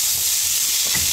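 Green pepper and vegetables fry in a pan, a steady close sizzle with faint stirring scrapes near the end, no voices.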